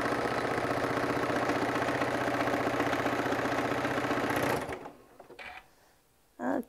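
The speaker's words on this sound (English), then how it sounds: "I will do this line of stitching" A sewing machine stitches a line with a fast, even mechanical chatter, up close and loud for about four seconds, then stops, leaving a few quieter handling sounds.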